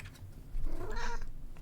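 A pet cat near a desk lets out one short, fairly quiet meow, with a few soft taps in the background.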